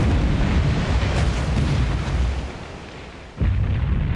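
Battleship guns firing in a naval battle game, a dense rolling roar of heavy booms blending together, loud and continuous, with a brief dip before another sharp blast near the end.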